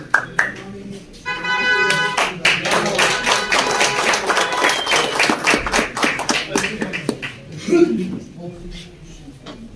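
Loud, sustained applause from an audience at a Kashmir pigeon sports club award ceremony, with dense hand clapping filling most of the stretch while someone talks over it through a microphone.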